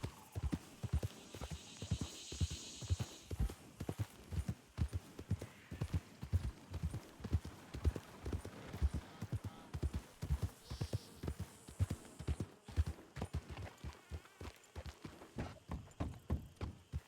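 Rhythmic hoof clip-clops from a video game horse at a steady walking pace in a Red Dead roleplay server, continuing throughout at a moderate level with a faint background ambience.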